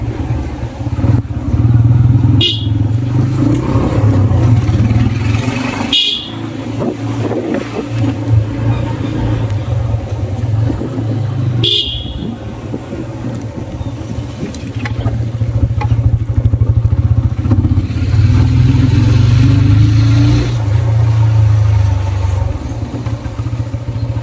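Motorcycle engine in first gear, running close and loud with a steady low drone that dips and swells as the throttle is eased off, with a few sharp clicks and faint voices.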